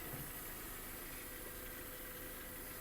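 A Volkswagen Touran 1.6 MPI engine idles steadily with a low, even rumble and slight vibration, constant throughout with no other sounds.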